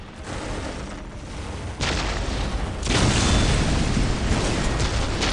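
Ork artillery shells explode in Warhammer 40K: Dawn of War, heavy booming blasts that roll into a sustained, loud rumble of battle, with a sharper impact surging partway through.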